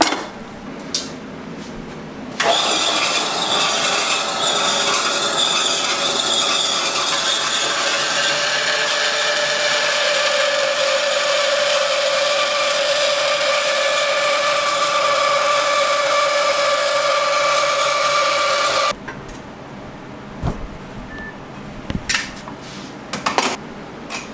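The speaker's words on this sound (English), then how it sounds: "Now that should cut on the bandsaw." A bandsaw cuts through metal rod in a garage workshop, giving a steady, loud grinding rasp that holds for about sixteen seconds and stops abruptly, with quieter shop clatter before and after.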